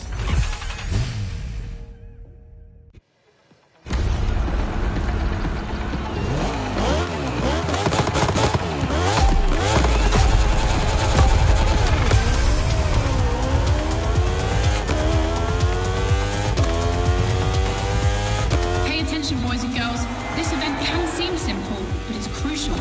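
Racing motorcycle engines in The Crew Motorfest howl and climb through gears after a brief silent gap, loud and continuous with repeated rising and falling revs and tire noise, and a voice talks at the start.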